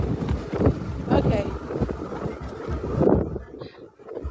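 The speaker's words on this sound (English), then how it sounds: "It's very windy." Gusty wind buffets the microphone with a low, rumbling roar, loud and continuous, and a voice speaks briefly over it.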